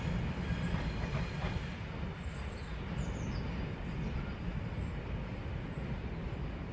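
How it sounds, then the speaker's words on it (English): Class 66 freight locomotive 66108 rolling past at Charlton station in London, a steady loud rumble of wagons with rhythmic wheel clatter and a faint air-brake squeal, no voices. "That was 66108 on an unknown head code service from Hither Green down in reception to Angaston Wharf."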